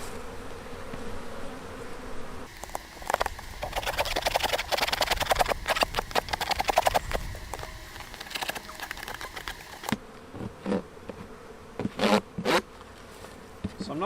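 Honeybees buzzing densely around an opened beehive after a winter kill with a beetle infestation, a steady close insect drone with sharp intermittent buzzes and clicks, no talking.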